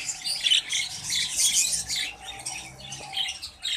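Budgies in a breeding colony with a one-week-old chick, a busy close chorus of chirps, squawks and chatter overlapping continuously, with no talking.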